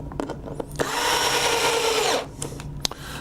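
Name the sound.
Hitachi power screwdriver driving screws into control panel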